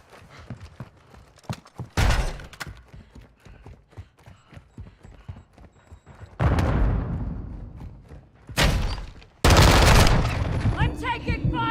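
Gunfire in a multiplayer shooter deathmatch: scattered sharp clicking shots, then several loud, dense bursts of rapid fire, some sustained for a second or more, with a faint murmur of voices in the background.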